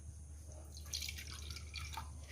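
Water runs steadily over cleaned pomfret fish being rinsed in a kitchen, a continuous soft trickle with small splashy patter, close and fairly quiet, with a low steady hum beneath.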